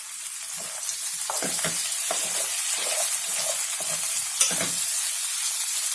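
Potatoes sizzle steadily in a covered pan, a close constant hiss of frying with soft scattered crackles and pops throughout and no talking.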